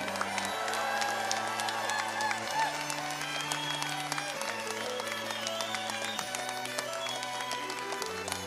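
A graduation ceremony crowd claps and cheers for the class of 2013. The applause is a crackly wash of hands heard at a moderate distance over sustained music, with occasional shouts rising from the crowd.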